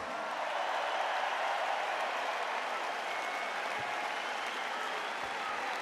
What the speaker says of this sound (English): give a hearty round of applause for the first band who took the stage tonight